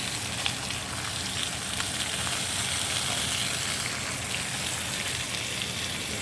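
Salmon sizzles steadily in a hot pan, a continuous crackling fry hiss at moderate, even loudness from start to finish.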